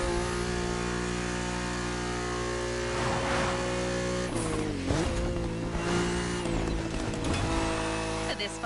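A BMW inline-six engine in a racing video game drones steadily at a high pitch, holding revs with a few shifts and dips in tone, loud and continuous, while a voice speaks over it.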